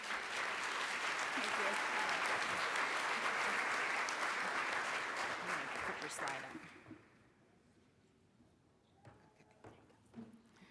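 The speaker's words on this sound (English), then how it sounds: "Let's give a big round of applause to Nancy Churlo." Conference audience at a family conference breaks into sustained applause that fills the room for about six seconds, then fades to scattered claps and quiet room noise, with faint voices beneath.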